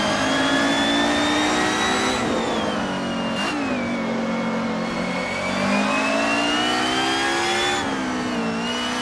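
A car engine revs hard and continuously in the Assetto Corsa racing game, the pitch climbing and dropping with gear changes as the car laps an unfamiliar Italian track, loud and steady with no talk.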